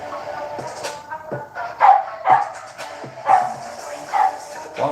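A pet dog barks in a home, several sharp barks spaced through the stretch, fairly close and loud, with some faint voice sounds mixed in.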